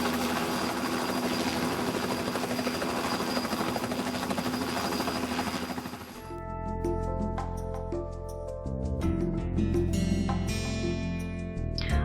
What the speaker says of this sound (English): An Austrian helicopter approaches, which once was used for rescue services.